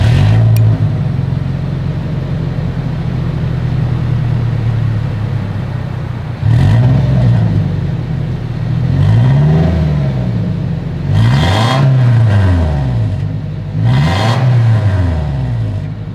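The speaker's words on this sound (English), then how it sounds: "As always, here is that exhaust clip." Engine revs from a 2023 Toyota Tacoma pickup rise and fall through its exhaust in several distinct blips after a steady idle, close and loud, with no talking.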